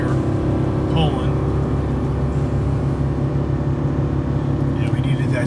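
A Ford F-350 Tremor pickup with a gas engine climbs a steep hill in second gear while towing 15,000 pounds, its engine giving a loud, steady low rumble under strain from start to finish, with no spoken words.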